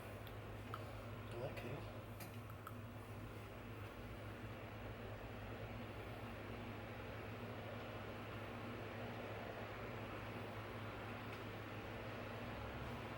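An electric fan runs in a room, producing a steady low whooshing hum with a faint constant drone, quiet and unchanging throughout, with no talking.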